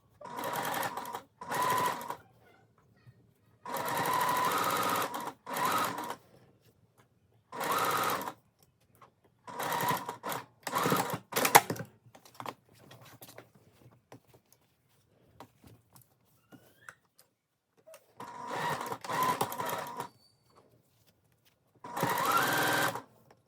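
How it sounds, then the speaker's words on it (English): Sewing machine stitching the side panel of a rainbow seersucker dress from the wrong side, running in short, distinct bursts separated by quiet pauses, close and steady, with no talk during the runs. "I'm gonna sew from the wrong side to sew those in place"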